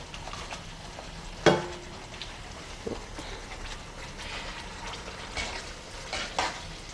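Pasta being stirred into tomato sauce for an amatriciana, finishing its cooking in a pan: soft scraping and wet shuffling at close range, with a few sharper utensil knocks against the pan over a low steady sizzle.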